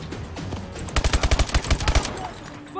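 A weapon in Call of Duty: Advanced Warfare fires a rapid burst of about a dozen punchy shots in quick rhythm, loud and close, with low background game noise around it.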